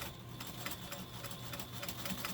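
A Pfaff 130 sewing machine stitches at a steady pace, its needle mechanism producing a fast, even ticking clatter that stays close and fairly quiet throughout, with no voices.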